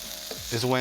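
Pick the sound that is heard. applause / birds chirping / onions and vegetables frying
onions and vegetables frying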